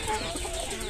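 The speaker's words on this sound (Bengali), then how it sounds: "মুরগিগুলো আর কি প্রচুর পানি ফালায়" Hens on a small backyard farm cluck continuously at close range, a busy, overlapping poultry chatter with no voices.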